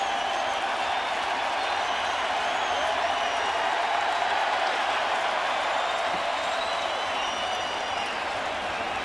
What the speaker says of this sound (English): Crowd wants curtain call.